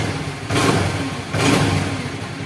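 A Honda Vario 110 scooter engine with a vibration fault, held at a steady idle and revved twice in short, close, rumbling bursts, with no talking.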